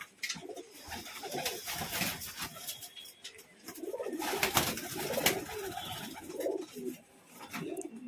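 Flying-breed pigeons kept in a loft in Murshidabad coo over and over at close range, their soft throaty calls overlapping in an uneven rhythm, with no talking.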